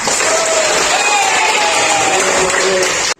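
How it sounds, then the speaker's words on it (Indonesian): A classroom of students applauds a presenting group, with loud, dense clapping mixed with cheers and shouts. It continues steadily for a few seconds, then cuts off abruptly. "Berikan aplaus kepada kelompok 1."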